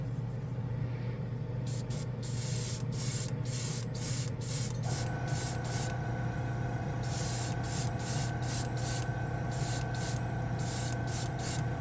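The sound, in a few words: spraying Green Stuff World Pinky Blue color shift paint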